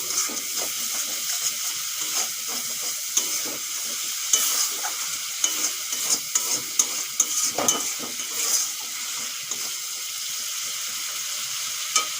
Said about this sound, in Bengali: মশলা ভাজা হয়ে গেছে এখন ভেজে রাখা সবজি আর ডিমগুলো দিয়ে দেব